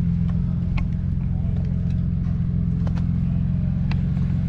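A competitor's car at an autocross event at Crows Landing idles with a steady, loud low engine rumble throughout, with faint outdoor background noise.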